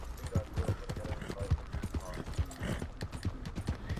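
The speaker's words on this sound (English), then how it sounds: "my horse, he's here" Horse hooves clip-clop in a steady, uneven rhythm in Red Dead Redemption 2 Online, fairly close and loud, with game ambience and some background sound around them.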